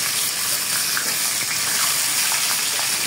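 Fish heads frying in hot oil make a steady, loud sizzle, a broad crackling hiss that holds without pause.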